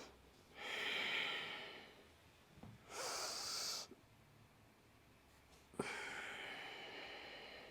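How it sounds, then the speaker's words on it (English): Slow, audible nasal breathing during a yoga class, with three long airy inhale and exhale passes separated by quiet pauses and no talking. "Breathing through the nose."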